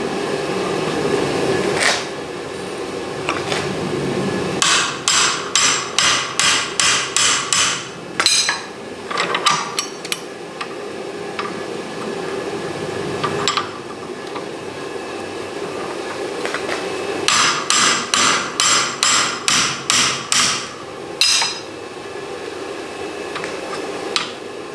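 Bolt tong jaws are hammered into line on an anvil in two bursts of rapid, ringing blows, each of about a dozen strikes. Steady workshop hum fills the gaps between the bursts.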